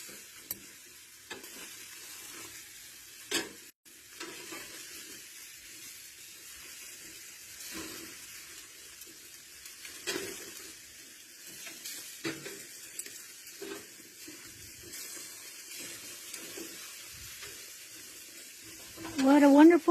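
Chicken cooking on an outdoor grill on a spring day, a soft, steady sizzle and hiss with scattered ticks and clicks. A voice is heard near the end.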